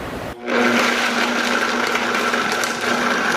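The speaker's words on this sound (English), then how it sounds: "we're gonna start blending. I'm gonna start at a low speed, and then I'm gonna pick it up" Countertop blender whirring steadily as it blends watermelon into juice, a loud continuous motor whine with a humming drone that starts abruptly and holds nearly constant throughout.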